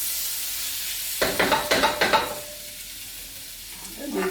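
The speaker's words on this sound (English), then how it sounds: "We're going to give it a little stir," Paella vegetables stirred in a hot pan, a run of about five scraping strokes over a steady sizzle, then a quieter hiss with a brief rustle at the end.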